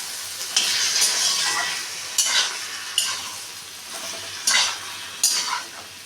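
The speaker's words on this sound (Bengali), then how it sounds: "দিয়ে ভালো করে মশলার সঙ্গে ভাজবো" Spices with turmeric and salt frying and being stirred in a pan for a potato and vegetable curry; steady sizzling with several sharp scraping stir strokes, close and fairly loud, no talking.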